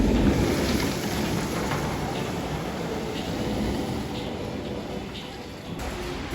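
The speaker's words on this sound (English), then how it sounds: "It's still raining, but it's a lot lighter than it was before." Light rain falls steadily at a theme park, a continuous even hiss filling the whole stretch with no voices over it.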